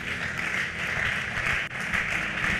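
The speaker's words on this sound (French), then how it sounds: "Tu applaudis très fort pour la gloire de Dieu." A church congregation applauding during a sermon, a dense, continuous roar of clapping that stays fairly even and soft, with a brief dip partway through.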